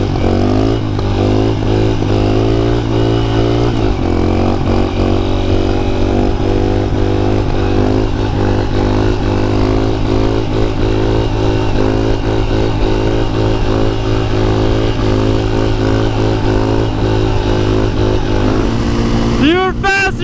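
Dual sport motorcycles, a 230L and a 250L, ride together, with a loud continuous engine drone and shifting revs throughout plus wind and clatter, and a voice speaks briefly near the end.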